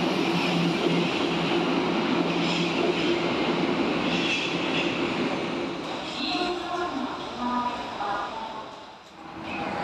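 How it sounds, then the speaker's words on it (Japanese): A subway train rolls along with a steady low rumble and track noise heard from inside the car, with a brief squeal and quieter patches toward the end as the ride slows. "また地下鉄で移動したみたいです。"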